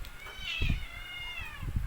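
Cats on a farm in a brief scuffle, close and fairly loud, with drawn-out, wavering meows and yowls over short rough bursts of movement.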